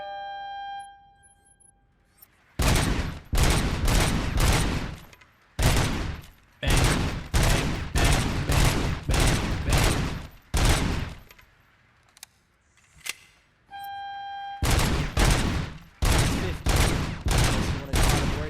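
Repeated bursts of rapid automatic gunfire from the Robocop: Rogue City video game, loud and close, firing in long volleys separated by short pauses, with a brief tonal sound at the start and middle.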